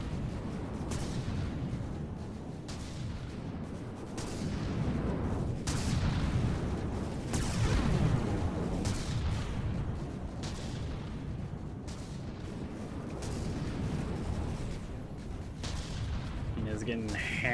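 Turrets and railguns fire in heavy repeated volleys during a battle in the video game From The Depths, with booming impacts and blasts at an irregular rhythm, and a voice talks over them.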